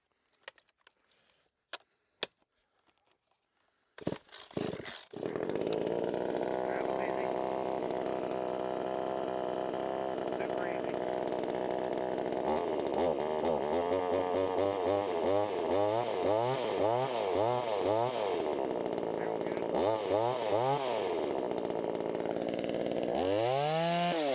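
A few faint knocks and pulls, then a VEVOR 12-inch 25.4cc gas chainsaw fires up and runs loudly and steadily, revving up and down repeatedly toward the end.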